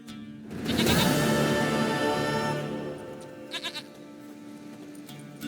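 A goat in The Witcher 3 game lets out one long, loud, wavering bleat lasting about two seconds, followed by a few quieter stuttering bleats over a low ambient game background.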